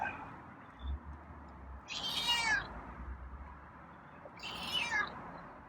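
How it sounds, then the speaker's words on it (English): Two drawn-out meows from a formerly feral cat, a couple of seconds apart, fairly close against a quiet room with a faint low hum. "Oh, now you're meowing."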